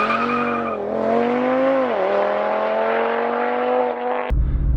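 A stock-turbo Audi RS3 with a Unitronic tune launches hard from a standstill, its engine note rising steadily through a gear with tire squeal from wheel spin, loud and close, before cutting off abruptly into wind rumble.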